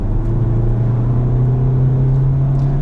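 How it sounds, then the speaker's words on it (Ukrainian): A Skoda Octavia A7 with a 2.0 TDI diesel and DSG gearbox accelerating uphill gives a steady, low engine drone that holds throughout, with faint road noise. "Це ми розганяємося під горку"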